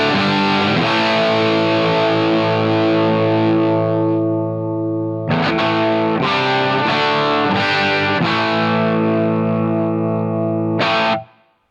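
Distorted electric guitar played through a Line 6 POD Go with a volume pedal placed before the amp, sustained heavy chords ringing out and fading, then repeated chord stabs and a final short strum cut off abruptly.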